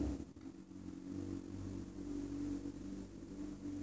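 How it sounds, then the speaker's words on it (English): A motorcycle engine idling and revving in the distance, a low throbbing rumble that swells and eases with some clatter. "There's someone like revving a motorcycle over and over again."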